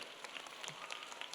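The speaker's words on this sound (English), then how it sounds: "Scholars, give a big round of applause to the fourth negative speaker." Audience applause for a junior debate speaker at a World Scholar's Cup round in Manila, a faint, steady patter of many hands clapping in a hall, heard at a distance with no talk.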